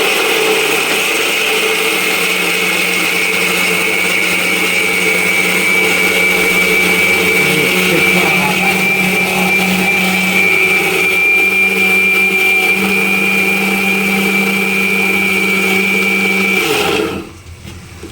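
A kitchen mixer grinder blends a chutney of gram flour, onion and chilli, its loud steady motor whine running continuously up close before cutting off abruptly at the end.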